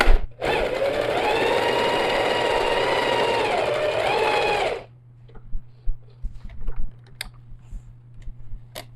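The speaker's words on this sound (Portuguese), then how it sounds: "Eu posso vir aqui e fazer uma costura de segurança fechando essa abertura" A sewing machine runs steadily for about five seconds, stitching a safety seam that closes an opening on a fabric backpack flap, then stops, leaving faint handling clicks and a low hum.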